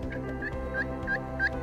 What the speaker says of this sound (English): it almost sounds like hens are moving away